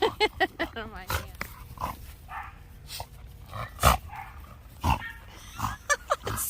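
A rescue puppy snorts in short bursts close to the mic, mixed with small yips and whimpers, while a person talks over it giving sit commands.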